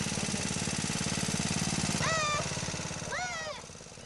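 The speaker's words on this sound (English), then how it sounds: "Dads were blindfolded and then tried to drive a riding lawnmower through an obstacle course." The engine of a riding lawnmower chugs steadily and loudly at a 1996 blindfolded dads' obstacle-course contest in Fayetteville, with brief raised voices or whistles partway through.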